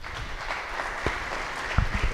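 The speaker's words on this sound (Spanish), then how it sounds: "Recibámoslo con un fuerte aplauso." Sustained applause fills a lecture hall as an audience welcomes a speaker at a summer course session on Mexican history, a steady patter of many hands clapping together.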